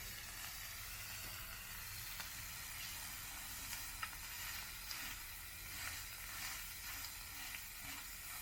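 Wagyu A5 blend smash burger patties sizzling in a pan, a steady soft hiss of frying fat with faint crackles and occasional small pops, heard alone at low level.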